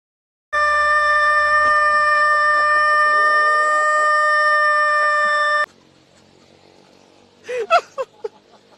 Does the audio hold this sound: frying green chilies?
no